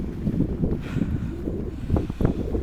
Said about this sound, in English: It's quite windy, and you might only have the sound of blaring wind to listen to.